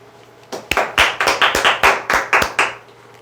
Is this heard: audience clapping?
yes